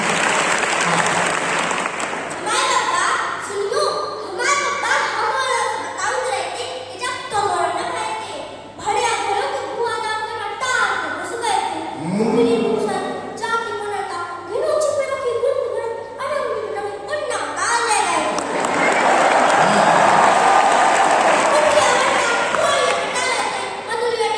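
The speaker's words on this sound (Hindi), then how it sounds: "अरे समझ में आया हो तो तालियां बजाओ" An audience at a Hindi poetry recital for World Hindi Day claps along, with rhythmic bursts of handclaps mixed with voices. The clapping swells into full, loud applause toward the end.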